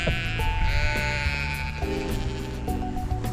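Several sheep in a field bleat and call over one another, overlapping cries from nearby and farther off, continuing without pause.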